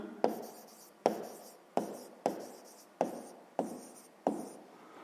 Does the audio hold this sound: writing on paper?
yes